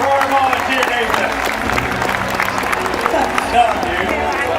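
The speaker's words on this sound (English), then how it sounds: "Let's give a huge round of applause for our volunteer, Nathan" Audience at a SeaWorld San Diego orca show claps for a volunteer, a dense, steady patter of applause from a large crowd with voices mixed in.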